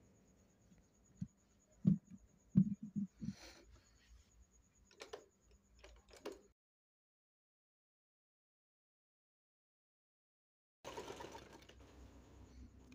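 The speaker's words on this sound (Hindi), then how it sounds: "अब हम मशीन को सीधा करके अब सिलाई चलाएंगे" A household sewing machine stitches thick fabric in short, close, mechanical clattering bursts, then falls silent for several seconds before running again in a steady whirring stretch.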